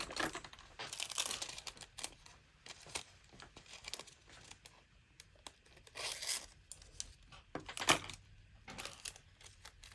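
Transfer foil for winter nail art being cut close up, giving crisp crinkling snips and crackles in irregular bursts over a soft background, with no talking.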